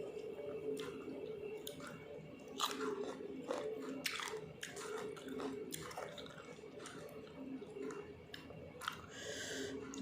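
Someone eating up close, with moist chewing, biting and occasional crunches repeating throughout over a faint background hum.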